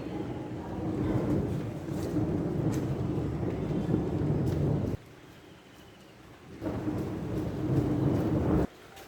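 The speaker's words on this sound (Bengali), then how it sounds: "ভালোই জোরে বৃষ্টি পড়ছে।" Heavy rain pours steadily over a rooftop garden with potted petunias, a dense broadband roar that drops off abruptly twice before surging back, with no talking.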